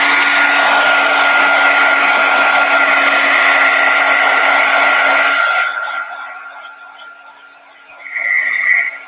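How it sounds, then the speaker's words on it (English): A heat gun blasts with a loud, even whoosh and a steady hum while it dries damp paint on a journal page. The sound cuts off, there is a short quiet gap, and then it briefly starts up again. "Let me hit this with the heat gun again."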